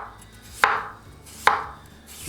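Potatoes being sliced on a cutting board for a tartiflette, two distinct knife chops about a second apart, each a crisp close thud with a short ring, in a quiet kitchen.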